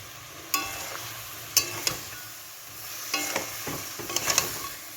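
Boiled potatoes and spices for a pea-and-potato curry fry in a pan, with a low sizzle under several sharp spatula scrapes and knocks as the mixture is stirred, close and fairly quiet.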